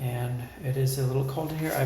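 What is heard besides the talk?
No everyday noises stand out.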